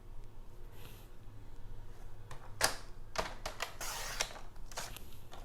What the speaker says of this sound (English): the first thing I'm going to do is cut the card base